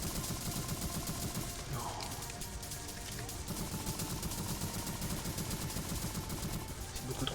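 Rapid gunfire rattles through a video game match in dense, continuous bursts like automatic weapons, steady and fairly faint throughout, with a brief spoken word.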